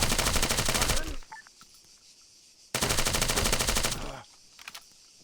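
Sustained automatic gunfire from a video game weapon hammers at a test dummy in two long loud bursts, each about a second and a half, with a few faint scattered shots and impacts in the quiet gap between them.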